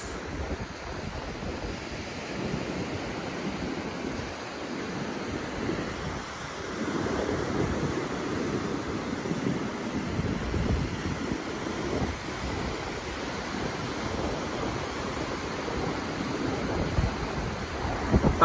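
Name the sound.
sea waves and wind at the Marataízes cliffs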